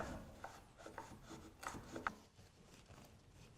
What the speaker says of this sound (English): We don't want to take off a whole lot at once with this little plane.